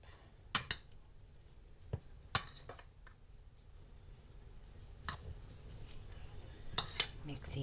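A utensil stirs meat for egg rolls in a bowl, giving a few sparse clinks and scrapes against the dish separated by quiet gaps, close and fairly faint.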